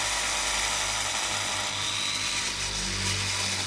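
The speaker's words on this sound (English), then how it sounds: "for a 45-degree miter cut on the edge of the slab, we use the grinder" An angle grinder making a 45-degree miter cut along the edge of a stone slab, a steady high whine with low motor hum, continuous and fairly close with no talk.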